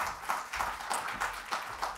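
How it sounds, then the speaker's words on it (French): An audience applauds a volunteer of the Restos du Cœur charity at a French public event, a steady patter of clapping with soft rhythmic swells, moderately distant and alone without talk. "on peut évidemment l'applaudir"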